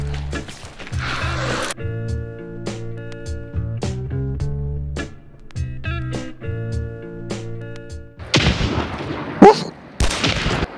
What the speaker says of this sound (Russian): Блин, откуда по мне стреляют?